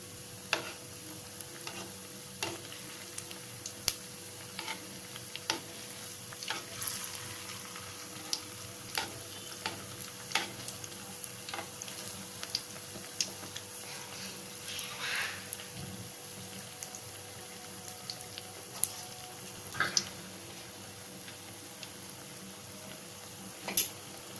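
Rava appam fries gently in a pan with a quiet, steady sizzle, broken by scattered small ticks and scrapes as it is handled, with no talk.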